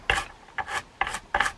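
Four short scraping strokes of a pick working old grease and debris out of a gear channel inside a Daiwa Regal 2500 spinning reel, each a brief, close rasp with quiet gaps between.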